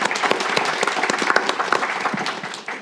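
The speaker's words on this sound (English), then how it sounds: "Please let's clap for her." An audience at a political analytics conference on polling bursts into sustained applause, a dense, lively patter of many hands clapping that holds steady and then tapers slightly at the end.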